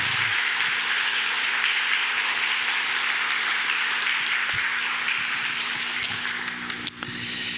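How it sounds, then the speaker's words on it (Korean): Church congregation at a Korean Sunday service applauding together, a dense sustained burst of clapping that carries on for several seconds, then a sharp knock near the end. "우리 옆에 분에게 응원과 사랑과 격려와 칭찬을 담고 우리 힘차게 하나님 감동 받으시도록 박수 한번 할까요?"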